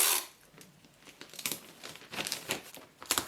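Paper or packaging being ripped and crinkled open on a package, with several short tearing bursts at close range, fairly quiet and without speech.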